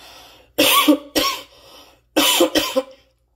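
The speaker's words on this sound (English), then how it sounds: "that cough is about to start back up" Two bursts of harsh coughing, each a pair of sharp hacks, separated by a short pause; close and loud with no talking.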